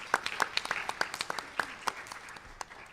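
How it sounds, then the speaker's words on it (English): A conference audience applauds, scattered individual claps at a moderate distance forming a loose, uneven round that thins out toward the end. "So let's cheer for everybody's brainstorming."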